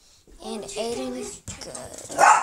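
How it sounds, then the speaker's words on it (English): A pet dog barks once, sharp and close, near the end, after a stretch of people talking. "That was our dog."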